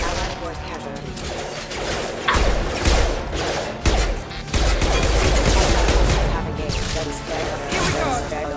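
Heavy combat gunfire in Mass Effect 2 on Omega, continuous loud volleys and impacts with sharp crashes, while in-game voices speak over the shooting.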